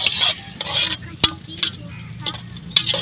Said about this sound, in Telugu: కానీ తిప్పేసి మూత పెట్టేసండి